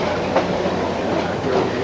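A St. Thomas and Ingersoll passenger train, STCR No. 9, rolls along the rails past crossings and a whistle post, steady wheel rumble with faint rhythmic clickety-clack joints, heard close from aboard with no talking.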